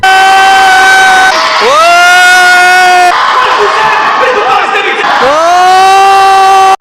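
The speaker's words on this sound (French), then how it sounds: "dans l'amphithéâtre, on était 3000 personnes assis en train de gueuler comme des oufs" A huge amphitheatre crowd of about 3000 people at a live gaming show shouts and cheers in loud sustained roars, with rising whoops and bellowing surges that swell and drop between bursts.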